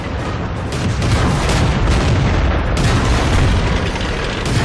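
A tank is destroyed in a tank video game, a loud sustained explosion with a deep rumbling boom that roars on for several seconds and fills the mix, with no talk over it.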